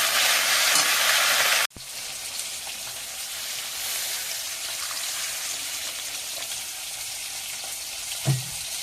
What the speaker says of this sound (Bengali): লবণ দিলাম, দিয়ে বেগুনটা কষিয়ে নেব।